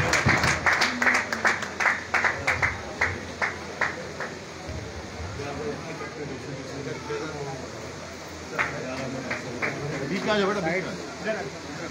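Brisk applause from an audience at a Karachi pigeon-racing prize distribution, loud rhythmic clapping that fades into crowd murmur and voices, with talk throughout.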